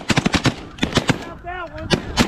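Shotgun blasts during a snow goose hunt in the rain, a rapid volley of loud close sharp shots, then a short pause and a few more shots, with goose calls and voices mixed in.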